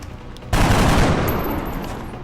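A gunshot in the XCOM Long War video game, a single sharp, loud blast that cuts in suddenly and then rings out into a lingering, fading reverberant tail.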